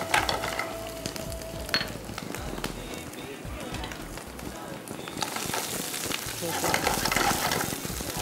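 Onion, garlic and mushrooms fry steadily in a pan for risotto, a dense continuous sizzle with stirring scrapes and a few sharper clinks, growing slightly louder toward the end.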